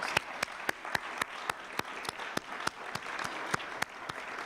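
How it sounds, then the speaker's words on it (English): An audience in a church gives a round of applause: dense, steady clapping from many hands with a few sharp individual claps standing out, fairly distant and moderately quiet, with no speech over it. "let's give him a big round of applause"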